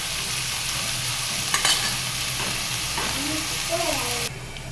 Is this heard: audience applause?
no